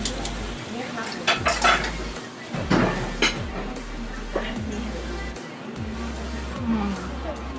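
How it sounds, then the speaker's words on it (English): Spoon stirring flaked potato and cheese into a pot of curry, with scraping and clinking of utensil against the pot in irregular bursts, close and moderately loud under low background hum. "So I'm stirring that in, and then I also got cheese, which I definitely want to stir in so it gets melted and stringy,"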